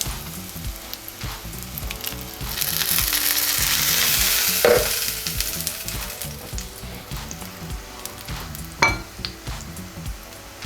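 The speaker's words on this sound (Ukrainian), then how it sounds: "смажимо наші рибки, розігріваємо олію на сковорідці." Oil sizzles and crackles steadily in a pan as battered, breadcrumbed fish fries, with occasional light clinks of a utensil against the pan.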